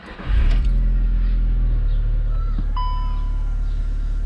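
A 2007 VW Beetle engine, just serviced, cranks and catches, then settles into a loud, steady idle close by. A bright electronic chime rings out briefly partway through.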